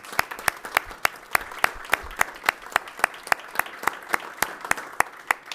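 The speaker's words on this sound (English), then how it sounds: "And one more round of applause" A small group claps at a city council meeting, the sharp claps sounding steadily and fairly evenly for several seconds, with no voices over them.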